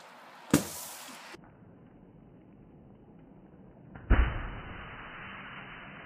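A huge snowball dropped from a deck lands with a heavy thump, preceded by an earlier sharp impact, each followed by a brief rumbling decay in otherwise quiet outdoor surroundings.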